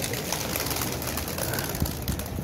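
A pair of pigeons coo nearby in a quiet, low, rolling murmur that runs steadily for a couple of seconds with slight pulses toward the end.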